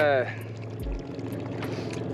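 Sump pump discharging water out of a snowmobile-powered jet jon boat, a steady pouring splash running under people talking and a low engine hum throughout.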